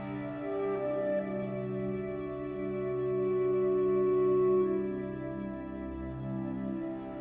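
Soundtrack music for the film Nightcrawler: sustained, somber orchestral tones and drones swell slowly and steadily with no talking, a single soft high note glinting early on.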